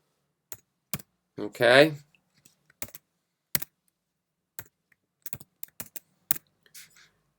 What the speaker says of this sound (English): I'm just going to type in number 21